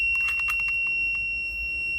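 Empty-pin alarm on a pneumatic nail gun (tacker), a steady high-pitched electronic tone sounding continuously, with a few light mechanical clicks and taps early on.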